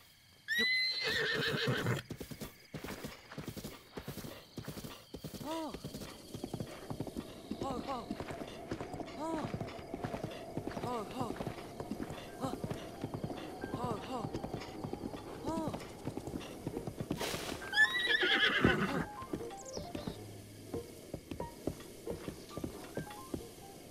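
In Zelda: Breath of the Wild, a horse whinnies and its hooves clip-clop steadily as it is ridden and tamed, with a second neigh near the end, while a player talks over the game sounds.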